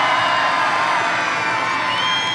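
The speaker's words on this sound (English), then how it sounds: "And if you would like the V12 Lambo to win," Crowd at the Beaulieu Supercar Weekend car show cheering for a V12 Lamborghini, a dense, loud, steady wall of shouts and whoops throughout.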